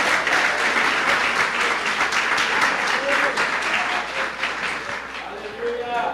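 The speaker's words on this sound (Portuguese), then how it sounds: "Uma salva de palmas ao Senhor." A church congregation claps for the Lord during a Portuguese-language service, with dense, sustained applause filling the room and some voices and cheers mixed in, tapering slightly toward the end.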